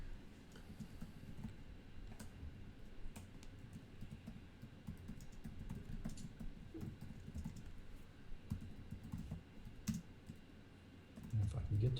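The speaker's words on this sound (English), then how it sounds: "I'm typing in Zoom chat for you." Quiet, fast computer keyboard typing in a Zoom chat, with soft irregular key clicks over a steady room hum throughout, and a louder low thump near the end.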